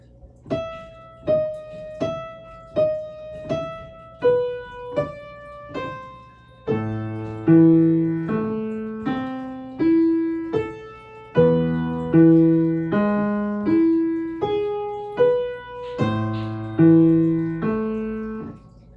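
A solo piano plays Beethoven's Für Elise, a gentle, flowing melody, starting with single notes and then adding lower accompanying notes, close and clear with no talking.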